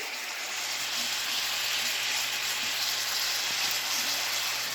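Ribeye steak sizzling and frying in a hot pan, a steady dense crackling hiss that holds at even loudness from start to finish with no voices over it.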